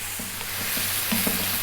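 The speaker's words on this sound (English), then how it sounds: "3 more minutes on this kind of fairly lively heat. As you can see, stirring pretty much all of the time." Fried rice ingredients are stirred over lively heat, a close, constant sizzle with soft scraping strokes of the utensil against the pan, no voices.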